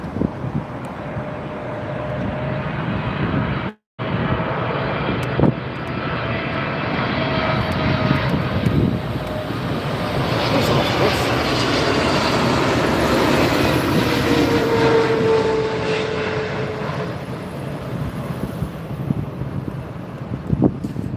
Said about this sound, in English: here comes the Emirates 777-200 LR